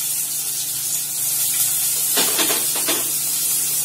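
Onions frying in hot oil in a wok give a steady bright hiss, then two short bursts of louder spitting and stirring near the end, heard up close with no talk.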